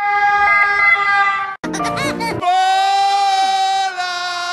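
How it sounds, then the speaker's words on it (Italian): Wailing siren sound effect on a TV news broadcast, a loud steady two-tone emergency-vehicle wail that breaks briefly for a burst of other noise, then resumes continuously. "Metti la sirena."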